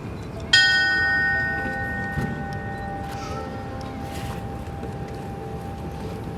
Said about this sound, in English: Ringing the bell will be his daughter Tessa